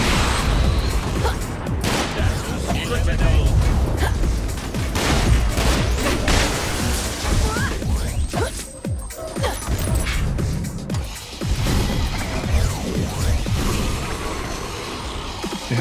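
Dense, continuous combat in the video game Sunset Overdrive: rapid gunfire and repeated explosions crash without pause, loud and close, with no talking.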